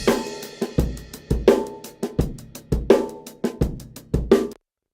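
Drum kit playing a steady groove with strong kick and snare hits, boosted around the 500 hertz midrange for a boxy, honky tone; loud, close and rhythmic with no voices.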